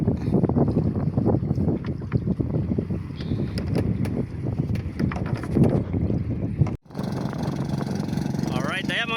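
A boat at sea tows a broken-down boat, its engine droning steadily beneath heavy wind buffeting, with a brief dropout partway through.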